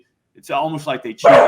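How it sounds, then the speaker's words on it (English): A dog barks a few times in quick succession, fairly close and loud, mixed in with someone talking over it. "We got a dog barking?"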